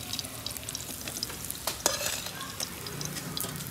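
Bitter gourd slices frying in a pan give a dense, close crackling sizzle with quick pops and light spatula scrapes, steady throughout with no voices.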